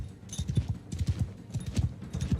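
Video game horse hoofbeats trotting at an unhurried pace, a near, even clip-clop pattern of grouped strikes repeating throughout with no voices over it.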